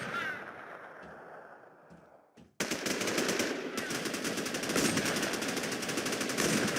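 Rapid automatic gunfire rattles in a video game, loud and continuous after a brief quieter stretch of noise and a few isolated shots.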